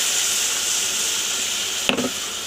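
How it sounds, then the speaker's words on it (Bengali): Water poured into a hot pan at home, a brief sharp hiss and sizzle bursting up near the end over a steady background hiss. "চলো এটা জল ঢেলে দিই।"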